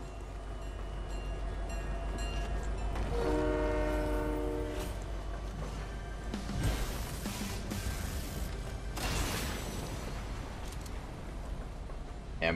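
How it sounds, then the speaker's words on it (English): A train passes through a Fortnite match, its horn sounding as a stacked, sustained blast before the rolling rail noise of the cars builds into louder rumbling bursts over continuous game ambience. "The train's coming."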